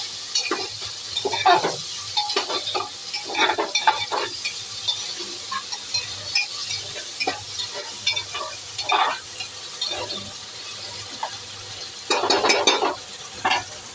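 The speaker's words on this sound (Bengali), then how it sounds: "দেখো, পেঁয়াজ ভাজাটা হয়ে এসছে" Onions fry in a pan with whole garam masala for Bangladeshi-style kacchi biryani, with a steady close sizzle and repeated bursts of spatula stirring and scraping against the pan.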